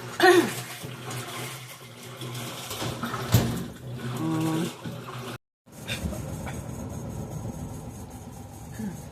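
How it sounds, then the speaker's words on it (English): A Whirlpool WTW4816FW3 washing machine, a faulty unit that rinses instead of draining and spinning, fills with rushing water under a low hum, with a brief cutout partway through and a person talking. "It's supposed to be draining and spinning, but instead it's doing a rinse."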